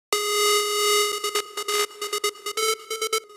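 Two layered synthesizer oscillators, one detuned by -7 and dropped two octaves, in a trance patch: a held bright buzzy note followed by a quick rhythmic run of short stabbing repeats, heard alone.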